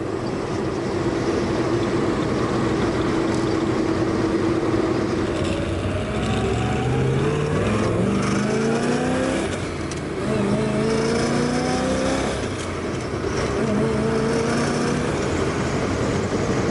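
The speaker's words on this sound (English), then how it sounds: "Nice running car. Carburetor opens up just like it should." A 1962 Chevrolet Corvette engine runs at a steady idle, then revs up repeatedly in rising sweeps as the carburetor opens, loud and close, with brief drops back to idle between blips.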